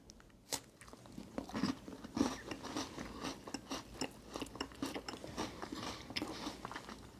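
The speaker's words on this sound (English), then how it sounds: "let's eat them dry, okay? Tim Tam going first." Dry Tim Tam chocolate biscuit being bitten and chewed close up, with irregular crunchy bites and mouth sounds repeating at a quiet level throughout, with no talking.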